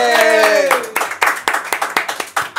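Audience clapping during a Spanish-language comedy show, sharp uneven claps following a short stretch of voice, building into a scattered round of applause.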